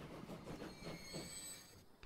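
A train rolls past in the rail simulation game Transport Fever, a steady rumbling wheel noise with faint squeal over about two seconds, fairly even in level and without talk.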